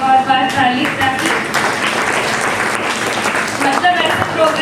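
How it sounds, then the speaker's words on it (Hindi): An audience at the Divine Earth Sirijeevan event gives the organizers a sustained round of applause, with dense, steady clapping from a crowd and a voice heard under it. "और ऑफ कोर्स सारे ऑर्गेनाइजर्स के लिए एक और बार ताली"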